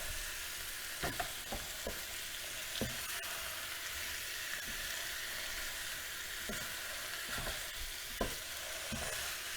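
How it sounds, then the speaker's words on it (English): Pork, onion and paprika fry in a pan for goulash, a soft continuous sizzle broken by the irregular scrapes and knocks of a spoon stirring the meat. "I'm just going to give this a little stir round, get those paprika bits up from the bottom of the pan and stirring the meat."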